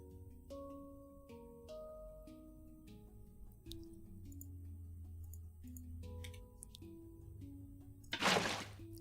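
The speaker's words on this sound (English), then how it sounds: "Now we have a waterfall." Water poured from a bucket in Minecraft Bedrock Edition to form a waterfall: a short, loud rushing splash near the end, over soft, steady game music tones.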